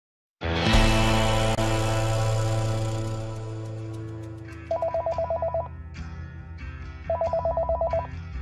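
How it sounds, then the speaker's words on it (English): A telephone ringing in two short rapid trilling bursts separated by a pause, following a loud sustained tonal swell at the start. "Dave McCraney still had his cup of morning coffee in his hand when the phone rang."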